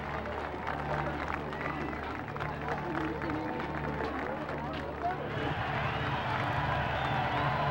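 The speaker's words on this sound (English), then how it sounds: "De Gaulle made his way through cheering crowds to the Territorial Assembly" Crowds cheer for de Gaulle in Conakry in an old archival recording, a dense, noisy roar of many voices that continues throughout and swells slightly toward the end.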